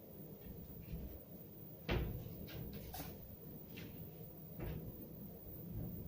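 The door of an IKEA Dombas wardrobe swings shut onto a small rubber damper block, giving a soft muffled knock and a few light taps against quiet room noise.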